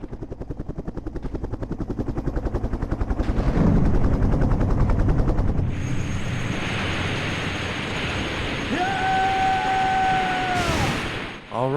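Heavy rotor chop of a helicopter in the video game Resident Evil Survivor builds into a roaring crash with a burst of noise, then settles into a loud rumbling drone with rising whine tones near the end.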